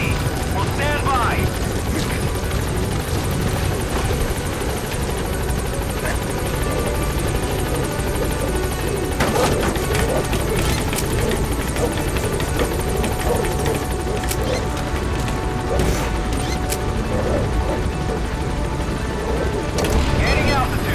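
The Pequod helicopter in Metal Gear Solid V: The Phantom Pain hovers at the landing zone, its rotor roar loud and constant throughout, with radio voice chatter over it.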